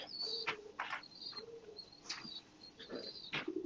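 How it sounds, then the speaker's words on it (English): Pigeons or doves in a loft, with soft coos, short chirps and a brief wing flutter, repeating at moderate distance with no talk. "I got another bird that just landed."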